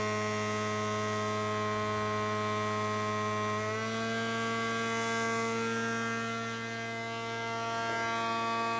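A Kromrey converter generator runs with its output shorted out, giving a steady electrical hum with strong tonal harmonics that dip slightly in pitch partway through, continuous and close, with no talking.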